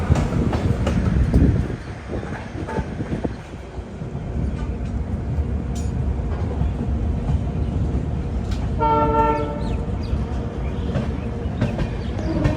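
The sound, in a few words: diesel locomotive train at New Bongaigaon station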